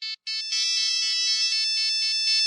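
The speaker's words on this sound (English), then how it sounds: "I'm sure you are all very familiar of the infamous Nokia ringtone of death." A bright electronic Nokia ringtone from an IED in the video game Squad plays loudly and close, a quick stuttered start followed by a steady repeating tune.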